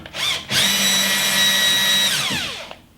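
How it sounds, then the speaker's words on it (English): A power drill with a 6mm bit spins up quickly, holds a steady high whine for about a second and a half, then winds down, loud and close. "I'm going to go along and drill using a 6mm bit first as a bit of a countersink"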